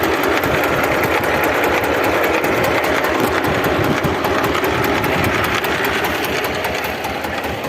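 A Lider 220 mini tractor engine runs steadily at a constant idle, loud and close, with a dense mechanical drone and no talking.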